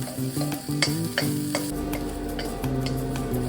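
Soya chunks frying in oil in a kadai are stirred with a spoon, giving steady scraping strokes and clacks over a continuous close sizzle and a low hum.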